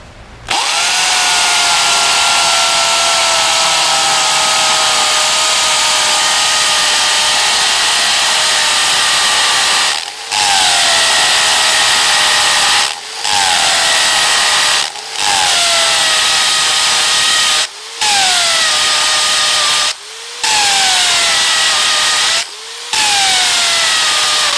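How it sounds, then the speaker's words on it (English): A Black and Decker KR705K hammer drill in hammer mode grinds loudly and continuously, drilling a 10mm hole into a sidewalk tile, stopping briefly several times before starting up again, with no voices. "I'm going to drill a 10mm hole into this sidewalk tile"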